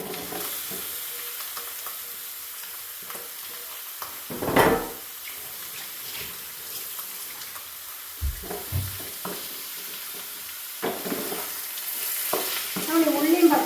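Chicken goes into a pan for a curry and fries with a steady sizzle, joined by occasional thuds, scrapes and clatters of stirring, growing busier toward the end.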